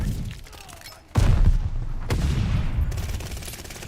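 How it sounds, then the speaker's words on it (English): A sticky bomb goes off with a heavy boom in the video game Call of Duty Vanguard. A second blast follows a second later, and dense gunfire rattles on afterward, close and loud. "Sticky bomb out!"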